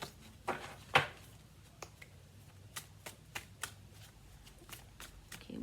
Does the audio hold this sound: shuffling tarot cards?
yes